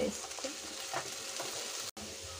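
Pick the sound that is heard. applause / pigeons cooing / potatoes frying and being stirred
potatoes frying and being stirred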